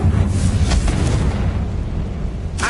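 The Confringo fire spell in the video game Hogwarts Legacy detonates with a loud, booming explosion. A deep rumble sustains throughout, with a crackling burst near the start and another sharp burst at the end.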